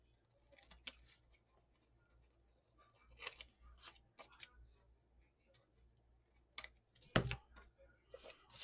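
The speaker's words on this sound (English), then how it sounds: "So everything I just folded on, we're going to cut." Scissors cut through folded paper in short, quiet snips and crisp clicks, scattered irregularly with pauses between them and one sharper thump near the end.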